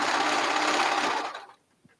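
A sewing machine runs steadily and fairly close as it labours slowly over a thick middle seam, then cuts off near the end, leaving a faint tap in the quiet that follows.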